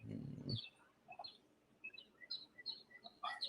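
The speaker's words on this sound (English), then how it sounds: "it's a beautiful day out with those birds chirping" Birds chirp outdoors on a fine day, scattered short high tweets spread through the clip, fairly faint and distant after a brief burst of low voice or noise at the start.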